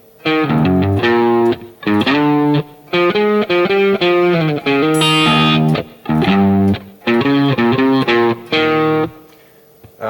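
Distorted electric guitar plays a blues phrase in B, loud, in short bursts of bent notes and quick runs separated by brief pauses, with no talk.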